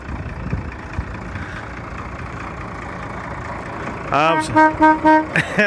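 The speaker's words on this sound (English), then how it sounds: "He's found a horn." An old vehicle's horn honked in several short, loud toots near the end, after a stretch of engine and outdoor background noise with people talking.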